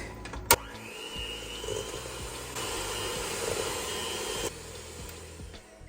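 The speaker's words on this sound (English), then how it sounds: "Then I'm going to beat this until it's smooth." An electric mixer beating room-temperature butter and cream cheese for a strawberry cake frosting, a steady whirring drone near the mic that starts after a sharp knock and shifts in pitch as it churns.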